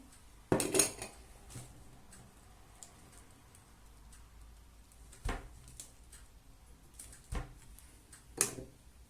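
A metal spoon clinks against a pan or dish while filling is spooned onto halved eggplants for imam bayildi, giving a few sharp, close taps spread out with quiet pauses between them.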